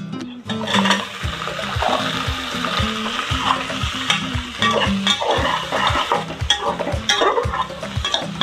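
Loud, steady sizzling of mutton frying in a hot pan with fried onions, with a constant crackle and occasional stirring scrapes, no voices.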